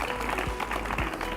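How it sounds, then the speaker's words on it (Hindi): Audience applause at a farmers' quiz show on vegetable growing, a steady dense wash of clapping filling the whole short stretch at moderate level. "अपने लिए जोरदार तालियां बजा दी"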